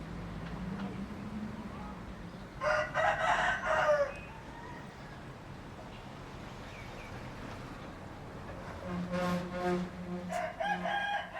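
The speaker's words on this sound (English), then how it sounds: "I kept hearing this rooster, and I couldn't figure out where it was coming from" A rooster crows twice, fairly near, with a pause of ambient background noise between the calls.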